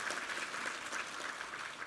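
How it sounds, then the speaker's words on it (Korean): A church congregation at a Sunday worship service applauds in thanks to God, a steady, even patter of many hands sounding soft and somewhat distant for the whole stretch. "우리 하나님께 감사와 영광의 박수 올려드리겠습니다"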